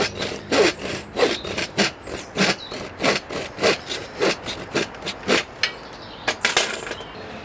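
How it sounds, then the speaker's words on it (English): A handsaw cuts wood during a cabin rebuild, giving a steady series of sharp rasping strokes about two per second, close and clear with no talking; the rhythm falters slightly near the end. "Have to use the handsaw for these bits."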